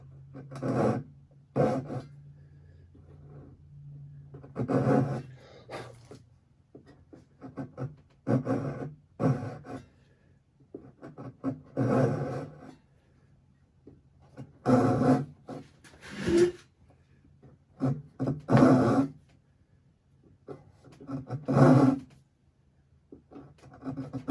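Rhythmic rasping strokes of a hand saw cutting wood, in short bursts with brief pauses between, close and fairly loud.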